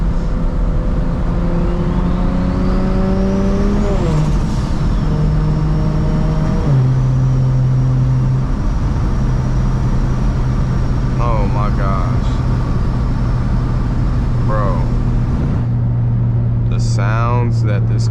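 A 600 hp single-turbo BMW 335i with an automatic gearbox drives under boost, its loud engine drone rising and stepping down through several shifts, with a faint rising whine and short bursts of voices over the rumble.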